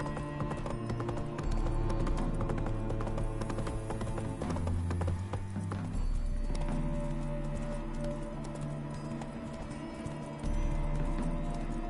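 Roach, Geralt's horse in The Witcher 3, walks with steady clip-clopping hooves over a layered game soundscape of tones and ambience, moderately loud and close, with no talk.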